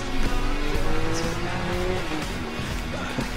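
A car's handbrake turn in the Need for Speed Most Wanted game, a drawn-out tire squeal and skid over a steady engine drone, close and moderately loud with no talk.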